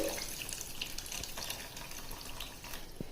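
Water poured into soaked tamarind for a fish curry, a faint steady trickling splash at close range with no voices.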